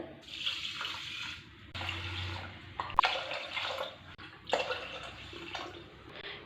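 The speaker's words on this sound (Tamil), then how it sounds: "தண்ணி 4 டம்ளர்" Water poured from a tumbler into a pressure cooker holding rice, fenugreek and whole garlic for Chettinad coconut milk porridge; four separate splashing pours come close and clear, each with a short gap in between.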